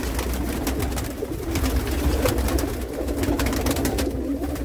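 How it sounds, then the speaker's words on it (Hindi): Golden Rampuri breeder pigeons at a sale in Jammu give low, throaty cooing that carries on steadily, with faint background noise and no talk. "देख ले जी कबूतर आराम से देख लीजिए"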